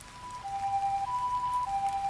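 An ambulance siren sound effect, a two-tone hi-lo wail alternating in long, even steps, loud and steady with no voices over it.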